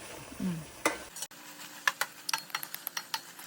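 Beef stir-fries in oil for pickle, a light sizzle broken by a series of sharp clicks and scrapes from the spoon against the pan, close and without talk.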